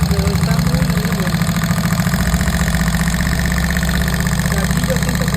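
A Vortex 300 motorcycle engine idles close and loud with a strange tappet noise, a steady rapid mechanical ticking over the low rumble, with weak lubrication suspected, while someone talks over it.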